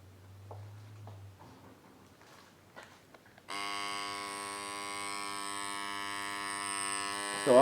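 A cartridge tattoo machine switches on partway through and runs with a steady, loud electric buzzing hum, preceded by quiet clicks and handling noises as it is plugged in.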